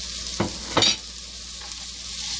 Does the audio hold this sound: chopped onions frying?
yes